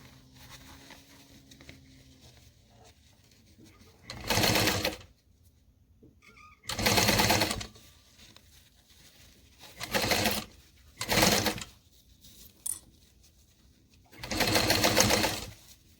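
A sewing machine runs a 3-length stitch along a 3/8-inch seam in short bursts, five or six fast whirring runs separated by quiet pauses, close and clear.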